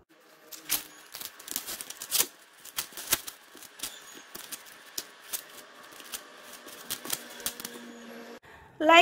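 Corn husks being peeled by hand to get at the silk: a string of dry crinkling, tearing and rustling bursts, close and fairly quiet, uneven in rhythm, ending with a louder crackle.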